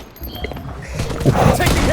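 Rapid bursts of gunfire in the shooter game Blood Strike crackle amid game noise, getting denser and louder toward the end, with someone talking over them.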